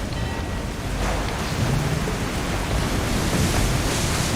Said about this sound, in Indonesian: Wow, sedang badai-badai.